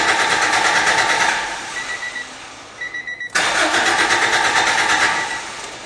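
A 1991 Acura Integra that is hot from warm weather cranks repeatedly without catching, the starter whirring loud and close, with a brief pause before it cranks again.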